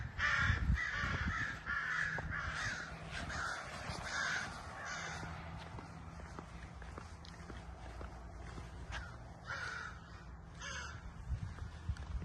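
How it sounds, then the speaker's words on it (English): A crow caws repeatedly from overhead outside an old hotel building, harsh calls in irregular bursts over footsteps and light background noise. "we have a bird up there making a bunch of noise."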